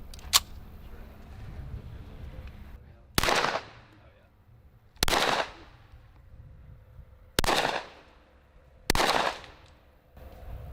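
Gunshots ring out during a shooting test: five loud, sharp single reports spaced roughly two seconds apart, each with a ringing outdoor decay, after a fainter crack at the start.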